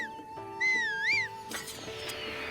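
A whistle used to call a horse in a video game: one rising and falling whistled tone stands out over a steady background drone and game sounds.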